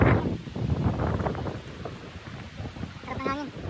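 Wind gusts across a mountain summit on a coastal trail in British Columbia, rushing and buffeting the microphone fairly close and steady, with brief voices near the end.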